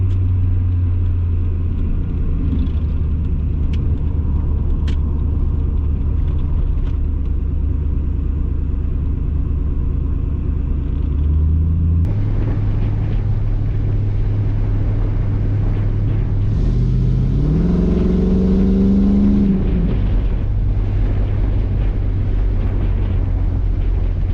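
A V8-swapped Chevrolet S10 Xtreme pickup truck's engine rumbles loudly with heavy wind noise, revving up and shifting as it drives down the road.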